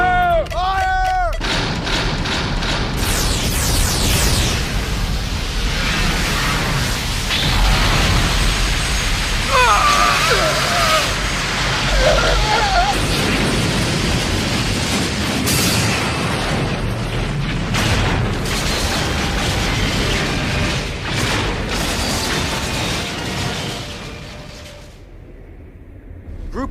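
Anime weapon fire and explosions on Mars, with dense booming blasts and bursts rolling one after another over a loud, chaotic battle bed, shouting voices mixed in, before the din thins out near the end.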